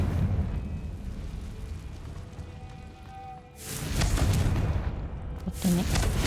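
A low rumbling bed with a faint tone gives way to a loud fiery blast from the Confringo spell in Hogwarts Legacy, then a second burst follows a moment later.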